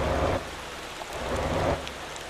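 Rain falling in the driving game Motor Town, a steady hiss of rain on surfaces with a deeper rumbling swell at the start and again near the end, no talk.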